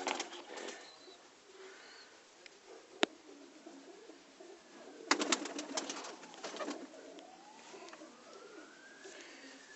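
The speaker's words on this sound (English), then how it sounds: "Young birds, not trained yet, but top Pakistani Kabootar." Young Pakistani Kabootar pigeons coo softly in a loft in Nottingham, UK, with a few low, rolling calls spread through the quiet, alongside a brief sharp click and some faint background noise.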